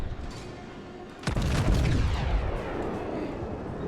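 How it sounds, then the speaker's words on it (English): Naval gunfire barrage from the cruiser Phoenix in World of Warships, a sudden heavy booming salvo after a quiet rumble, followed by a rolling, decaying low roar. "Get another full barrage on him"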